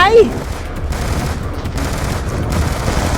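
Dense, continuous automatic gunfire in Call of Duty Black Ops 2, loud rapid bursts blending into a steady rattling roar, with a brief voice at the start.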